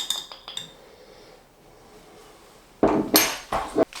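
Metal spoon clinking against a jar and pan while a teaspoon of garam masala is added for a chip shop curry sauce, a few light taps then a louder close burst of scraping clinks near the end.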